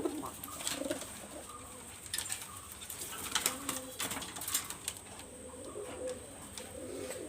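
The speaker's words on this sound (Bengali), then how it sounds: "এই জন্য যে দুইটা কবুতর মারামারি করছে" Two male pigeons squabbling at close range, repeated cooing and rustling wing flaps with scattered sharp scuffles over a low background hum.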